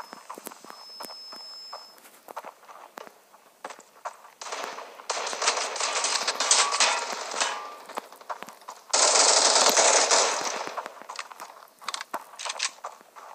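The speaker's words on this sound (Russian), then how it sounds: "Вот калаш очень крутой." An AK rifle fires in the Standoff 2 shooter game in two loud sustained automatic bursts, preceded by quick footstep taps and small clicks, with no voice heard.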